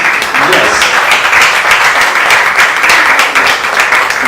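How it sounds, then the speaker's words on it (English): A large audience applauds steadily, a dense, loud wash of many hands clapping that holds for the whole stretch. "So let's clap hands for the members"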